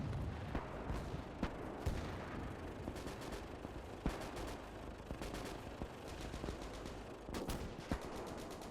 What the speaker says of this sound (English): there's a lot of rifle fire, a lot of mortar fire